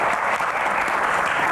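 A studio audience on an Indonesian Q&A talk show breaks into steady, dense applause, a continuous wash of many clapping hands, close and fairly loud without speech over it.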